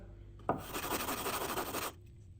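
Sandpaper rubbed over the corners of a Quangsheng 5 1/2 bedrock bench plane. A single close, raspy scrubbing stroke lasts about a second and a half with a pulsing back-and-forth texture, set against quiet surroundings.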